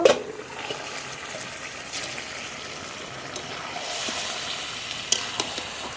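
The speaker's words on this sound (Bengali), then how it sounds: "ঢাকনা তুলে মাংস নেড়ে নেব" Duck meat cooking in a pot is stirred after the lid comes off, a soft wet sizzle with scraping spoon strokes and a few sharper knocks against the pot, close and moderate in volume.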